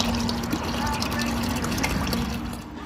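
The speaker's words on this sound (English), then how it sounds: "In goes the bottle of liquid." Liquid crawfish boil seasoning poured from a large bottle into a big pot half full of water for a Louisiana crawfish boil, a steady close splashing pour with a low hum underneath.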